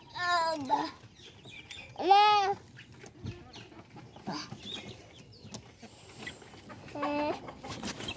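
Desi chickens cluck and call in a few loud, separate bursts against quiet farmyard background, with faint bits of speech between them.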